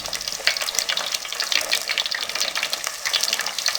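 Puri frying in hot oil in a home kitchen, a dense steady sizzle with bubbling crackle, fairly close and continuous throughout without any talk.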